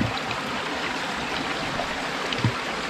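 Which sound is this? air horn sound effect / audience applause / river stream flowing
river stream flowing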